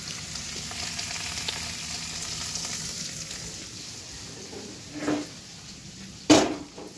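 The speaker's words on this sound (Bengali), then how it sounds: "ওইদিকে দেখো আলু ভাজছে" Potatoes and cauliflower fry in a pan with a steady, close sizzle, broken by two sharp clinks of a utensil against the pan near the end.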